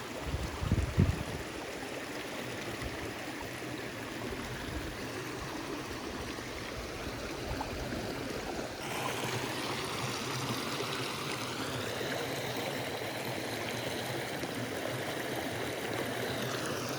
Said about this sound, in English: Got a little bit of a waterfall.